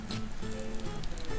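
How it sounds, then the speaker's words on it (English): Rain in the video game AI Shoujo, a steady dense hiss of falling drops on surfaces, continuous and fairly loud throughout with no talking. "Can you guys hear the rain right now?"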